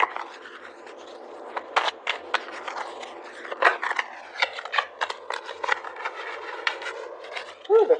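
Tarot cards being pulled and shuffled, with a steady run of soft, crisp flicks and slides of slick cards, fairly close and moderately quiet.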